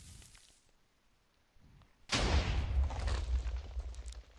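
A TNT launcher blasts out of a mountain in Minecraft: near-silence gives way to a sudden loud, broad boom at about two seconds, followed by a sustained rumbling crackle of repeated explosions.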